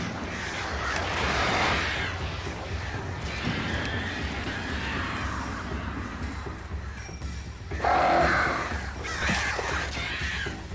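Several crows caw in the video game Alan Wake, harsh repeated calls in bursts over a low ambient rumble, with a louder flurry of caws near the end.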